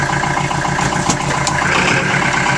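A 1967 Austin FX4 taxi with no power steering drives through a Texas neighbourhood, its engine a steady, dense drone with road noise, loud and close throughout, no voices.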